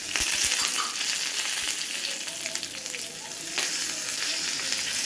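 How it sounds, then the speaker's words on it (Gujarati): Cloves, cinnamon, two dried red chillies and curry leaves fry in hot oil for a Gujarati kadhi tempering, giving a loud, steady, close sizzle and crackle throughout with no talking. "હવે આ વઘારને તમારે આ રીતે સરસ સાતળી લેજો।"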